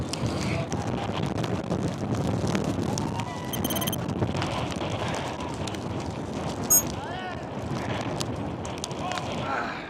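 Strong gusting wind reaching 120 kilometers an hour roars and buffets the microphone in a continuous, heavy rush, with people talking under it.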